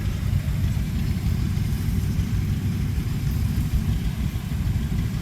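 A Minneapolis Moline Model U tractor's four-cylinder engine idles steadily nearby, a low, even rumble holding constant throughout with no voices.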